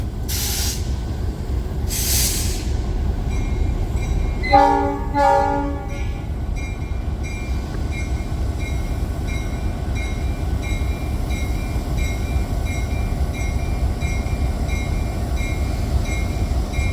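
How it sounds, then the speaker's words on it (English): Diesel locomotive 4506 idling at a railway museum's diesel days event, its steady low rumble underneath a loud, sustained multi-tone horn blast about a third of the way in, then a continuous engine drone with no talking. "Beautiful locomotive."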